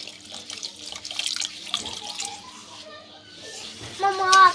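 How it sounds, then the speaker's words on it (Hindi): Water pours in a running stream into a pan of sugar, butter and cocoa powder for homemade chocolate sauce, close by, with splashing that swells toward the end. "पानी अब हम थोड़ा थोड़ा करके डालेंगे जितनी हमें इसकी ज़रूरत होगी।"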